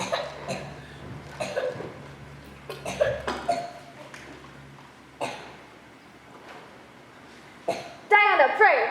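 A person coughs several times in short bursts at a stage play, spaced across the scene, with dialogue spoken between them.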